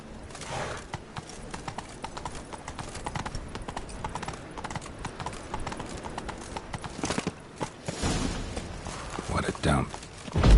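Galloping horse hooves from The Witcher video game, a fast steady clip-clop rhythm running throughout at close range, with game music and ambient sound underneath and a brief horse whinny near the end.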